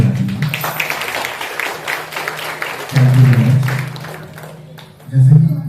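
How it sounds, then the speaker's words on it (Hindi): Audience applause for the TSG Charitable Foundation team at a state-level painting competition event, a steady mass of clapping over a low hum that swells again in two louder bursts. "उनके लिए एक बार जोरदार तालियां बजाइए।"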